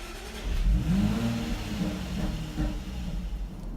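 A car engine starts nearby and rises in a rising revving whine, then settles into a steady idle rumble for the rest of the moment, with no talk over it.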